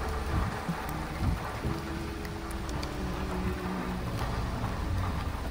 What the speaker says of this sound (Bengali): খুব জোর মেঘ করে বৃষ্টি শুরু হলো।